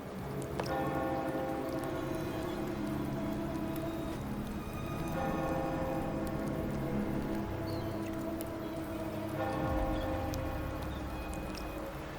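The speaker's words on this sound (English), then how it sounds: "Hear that? The bell they tolled." Bell tolling in the video game Ciaccona Toccata, repeated resonant strokes about every four seconds, each ringing out with a long sustained hum, moderately loud over a soft ambient bed.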